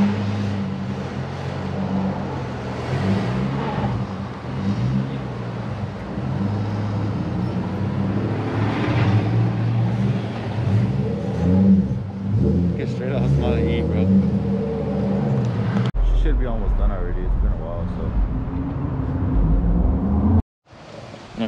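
A Nissan 350Z engine idles and rumbles as the car is driven slowly into a shop, a low steady drone with some revving and shifting, before a sudden cut near the end; people talk briefly.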